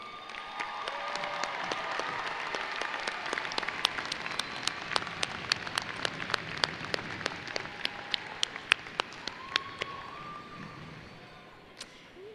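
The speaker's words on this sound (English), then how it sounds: "Please take a moment now to thank them with a round of applause." A large crowd applauds at a spring graduate commencement ceremony, a steady dense patter of many hands clapping that carries on for several seconds before tapering off, with no voices over it.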